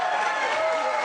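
Studio audience at a talk show breaking into applause and cheering, a dense, loud crowd roar filling the whole moment.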